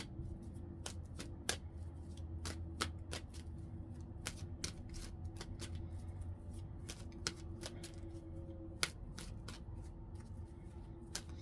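Tarot cards being shuffled during a reading, a quiet run of crisp riffling clicks and sharp card snaps scattered irregularly over a low steady background hum.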